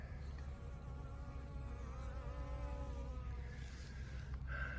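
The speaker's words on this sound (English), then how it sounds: "The bees are right here in this spot" Bees buzz softly and continuously close by at a murky water source, their droning hum wavering in pitch over a low outdoor rumble.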